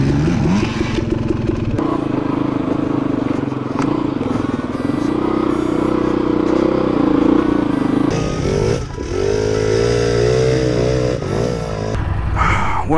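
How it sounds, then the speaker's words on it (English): A Beta 300 RR dual-sport motorcycle being ridden during a Dakota dual sport event, its engine buzzing loudly and continuously with shifting revs and wind rumble close to the rider. "Yes, and the joy of riding the Beta 300 RR."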